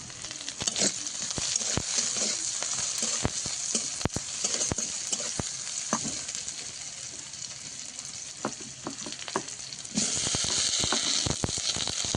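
Onion and green chili frying in hot oil for a Bengali vegetable curry: a steady, close sizzle runs throughout with scattered sharp crackles and pops, growing louder near the end as more goes into the pan.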